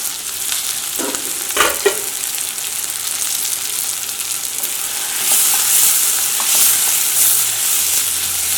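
Onions, green chilies and curry leaves hitting hot oil in a pan for a Kerala chicken roast, a loud steady sizzle that swells louder midway, with a few brief knocks near the start.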